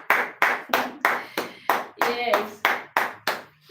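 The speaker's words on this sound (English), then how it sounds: "So a round of applause for yourself." Rhythmic hand claps, about a dozen evenly spaced sharp strikes, ring out in a live class, close and loud, with a brief spoken word slipped in midway.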